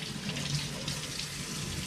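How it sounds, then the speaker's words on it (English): Cold tap water runs steadily over gutted rainbow trout in a sink, making a continuous soft splashing hiss with no talking. "Now we're just going to run them over some cold water, try to get all the blood and stuff out from underneath them"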